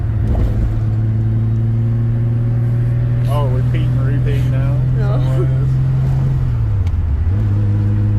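Car engine hum and road noise while driving, a loud steady low drone that shifts in pitch near the end, with people talking over it inside the car.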